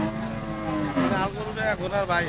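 A red cow at the Dariapur market, being sold ahead of the Eid sacrifice, gives a drawn-out, wavering moo close by over low background market noise.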